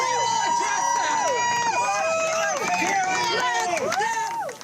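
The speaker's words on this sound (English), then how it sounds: "This crowd gets fired up, and they also cheer every time Karen Reed walks by." A crowd of supporters outside the Karen Read trial cheers and shouts loudly and continuously, with many overlapping voices rising and falling in rough waves close by before fading out at the end.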